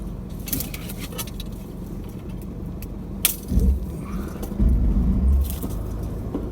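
A 4x4 vehicle rolls slowly along a narrow bush track while branches scrape and brush against its body, a steady low engine rumble with scratchy rustling bursts and a few sharp knocks.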